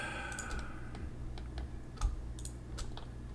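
Soft, quick clicks from a computer mouse while faces are selected in 3D modeling software, a scattered series of light ticks over a steady low room hum.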